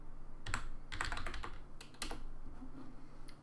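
Keys on a computer keyboard clatter in quick irregular bursts as a folder name is typed, close and fairly loud with short pauses between words, no talking.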